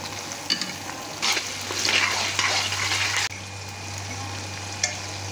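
Chopped tomatoes frying and being stirred in a pan for a matar paneer, a bright sizzle with scraping bursts that swells midway, then settles into a steady hiss with a faint constant hum underneath.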